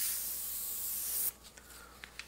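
An airbrush sprays paint over a stencil on paper with a steady airy hiss that cuts off abruptly after about a second, followed by quiet small rubbing taps.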